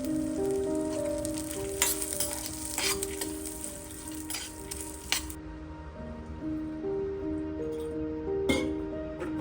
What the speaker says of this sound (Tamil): பூண்டு, சின்ன வெங்காயம், கொஞ்சமாக புளி, காஞ்ச மிளகாய், அப்புறம் பீனட்ஸ் இது எல்லாமே ஆட் பண்ணி நல்லா ஃப்ரை பண்ணி எடுத்துக்கணும்